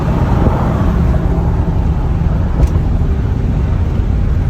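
A 1999 Dodge Ram Van 1500 campervan cruises along a highway, its engine and road roar forming a loud, continuous rumble with wind buffeting, heard from inside the cabin with no talking.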